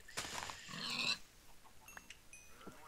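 Pigs in the video game Minecraft give a couple of short grunting oinks near the start, then fainter game sounds and small clicks follow, quiet and without talk.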